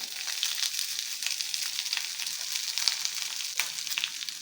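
Green chillies fry in hot oil for a fish masala, a steady close crackling sizzle with small pops and occasional stirring, no voices.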